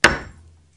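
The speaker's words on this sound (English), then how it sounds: "with this tool, you just put that right, it just locks right onto the staple, and then you take the hammer" A single sharp, loud hammer blow on a DoubleRock staple setting tool that is locked onto a staple, ringing briefly before decaying to quiet within half a second.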